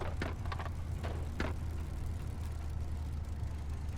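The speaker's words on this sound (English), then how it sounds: "I don't know why it still sounds like it's on and it's popping away." In Microsoft Flight Simulator 2024, a Spitfire Mk IX engine drones steadily throughout after being switched off, a rumbling idle with a few sharp pops and crackles near the start.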